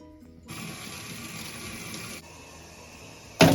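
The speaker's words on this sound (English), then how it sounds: "so it's Sterling's bedtime, so we are gonna go give her a bath" A tap runs into a basin or tub to fill a baby's bath, a steady close gush that drops to a softer flow partway through and ends on a sudden loud splash or clatter, with no talking.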